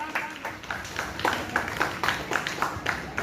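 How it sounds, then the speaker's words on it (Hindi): Applause welcoming a flower offering at a school ceremony for Gandhi Jayanti: a modest crowd claps in an uneven, continuous patter of hand claps, moderately near and fairly light. "तालियों से स्वागत करें सर्वप्रथम का।"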